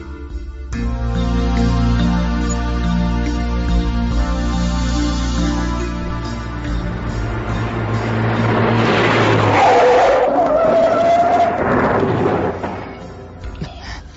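A Mercedes skids with squealing tires and crashes into a truck, loud and close, the screech rising over steady engine and music-like tones before a heavy impact and fading rumble.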